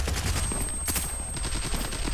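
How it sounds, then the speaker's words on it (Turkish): Rapid gunfire in the mobile shooter game Zula Mobile: dense bursts of automatic shots crackling continuously with sharp louder cracks, at a moderate level and with no talking. "Çünkü çok fazla silah sesi var arkadaşlar."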